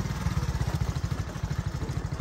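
A motorcycle rides along a dusty road toward a plot in Premier Enclave Block A, its engine putting out a steady, fast low-pitched thrum close by, loud and alone without talk.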